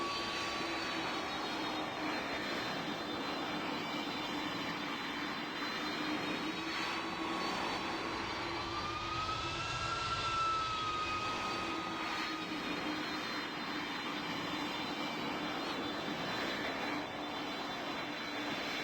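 A steady, loud airplane engine roar with a high whine, heard from inside the aircraft during a steep climb nearing a stall, holding constant with a slight pitch bend midway.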